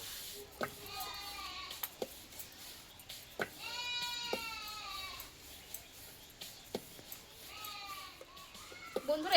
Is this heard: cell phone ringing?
no